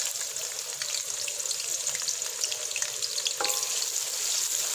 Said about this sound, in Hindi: अब इसमें 2 मीडियम साइज़ के बारीक कटे हुए प्याज शामिल करेंगे